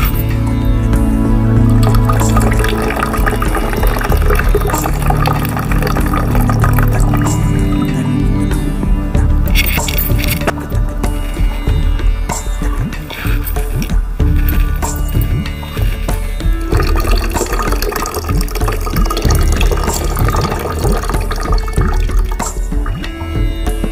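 Water pours and splashes during jala neti nasal cleansing in yoga, a loud, continuous close-up gurgle and trickle with uneven drips and a few clicking sounds.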